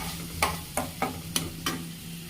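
Boiled vegetables for chowmein are stirred in a frying pan, about five sharp scraping strokes spaced irregularly over a soft steady sizzle with a low hum, close and moderately loud, no voices.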